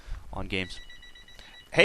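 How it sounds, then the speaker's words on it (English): A telephone bell rings with a short, steady electronic trill, heard right after a burst of conversational talk as a voice begins to speak again at the end. "that's the phone"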